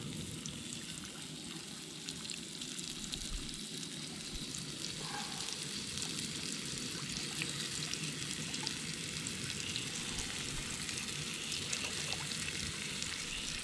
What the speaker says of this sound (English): Fresh fish fry.